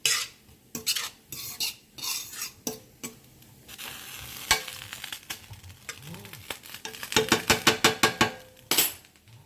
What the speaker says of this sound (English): Then we're going to add our onions in here.